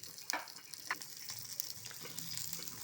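Dried red chillies, green chillies and sesame seeds sizzle in hot oil for tempering, a steady hiss of frying with a few sharp crackles and pops near the start, no voices.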